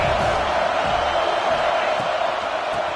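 Stadium crowd in College Football 25 cheering and murmuring in a steady, broad wash of noise, fairly loud and continuous, with no distinct shouts standing out.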